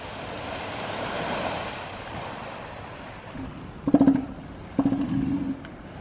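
Ocean surf rolls and washes steadily onto an elephant seal breeding beach, with wind noise and a couple of brief low animal bellows near the end.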